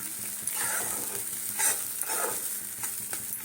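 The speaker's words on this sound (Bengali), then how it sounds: "আলুর দম এইভাবে পুরো শুকিয়ে নেবো আমি" Potato curry (aloo dum) sizzles in a pan while being stirred and dried out, a continuous close frying hiss broken by the scrape and clatter of repeated stirring strokes.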